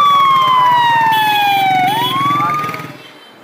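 A loud siren wails close by, its tone sliding down then sweeping back up before fading away over a rumbling engine.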